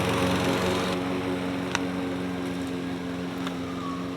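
A lawn mower engine drones steadily at a constant pitch, with a faint click partway through, alone and moderately close.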